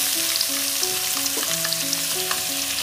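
Green and dried red chillies with onion, tomato and ginger-garlic sauté in a hot pan, giving a constant close sizzle under light background music.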